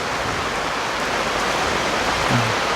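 Steady rain falls onto the ground, a dense, even hiss of drops that stays constant and fairly close, with no voices over it.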